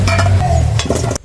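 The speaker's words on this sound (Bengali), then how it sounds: "নুন আর হলুদ মাখিয়ে রেখেছিলাম, এবার আমি ভেজে নেবো" Salted, turmeric-coated potatoes sizzle loudly in hot oil in a pan, a steady close frying hiss with brief stirring clinks, cutting off abruptly near the end.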